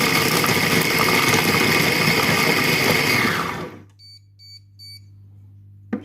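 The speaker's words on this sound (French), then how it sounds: "Et je vais mettre le programme manuel pour hacher." A Compact Cook Pro food processor chops on its manual program at speed 6, a loud steady whirring motor that cuts off after about four seconds, followed by a few soft electronic beeps.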